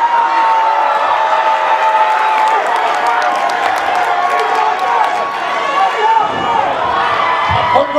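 A wrestling crowd roars and cheers through a tag team championship match, a dense, steady wall of voices with scattered whoops and clapping, and speech mixed into the din.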